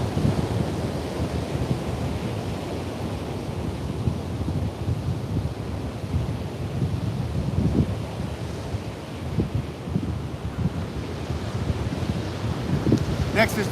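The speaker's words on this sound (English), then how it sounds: "Ooh, it's the wind." Wind blowing against a microphone outdoors, a continuous low rumbling buffet that swells and fades irregularly, loud and close throughout.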